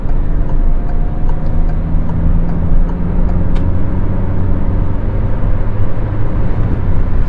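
A Peugeot 208 drives along, a loud steady engine and road drone from inside the cabin, rumbling without pause and with no talking.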